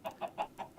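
Chickens in the video game Minecraft give four quick, evenly spaced clucks, each a short bright squawk, close and clear with nothing else around them.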